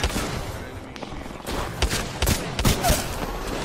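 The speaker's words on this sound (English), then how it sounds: "Eva 8 is one of the best shotguns in the game." Eva 8 shotgun blasts from an Apex Legends match fire in a quick, uneven burst of loud close shots over battle noise, with a player calling out under the gunfire.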